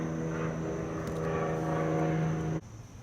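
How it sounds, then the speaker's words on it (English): An airplane passes overhead outdoors, a steady propeller drone with a buzzing hum that stays level for a few seconds and then drops off suddenly. "Ah, dang airplane."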